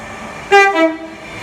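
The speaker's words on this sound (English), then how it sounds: "doing a nice horn there on the way" A single short two-tone train horn blast sounds at Long Port, loud and fairly near, fading quickly into low background rumble.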